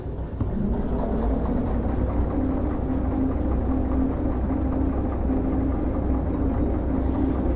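A freight locomotive in the train simulator Derail Valley picks up speed, its heavy engine droning low and steady with a repeating mechanical hum, moderately loud and alone.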